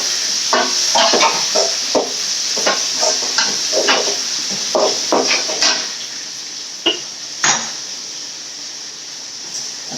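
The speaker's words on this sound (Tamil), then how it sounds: "இப்போ தக்காளி போட்டுக்கலாம்." Onions fried until reddish get tomatoes added in a pan for fenugreek-leaf kara kulambu, giving a steady sizzle with repeated scraping stir strokes, then quieter stirring toward the end.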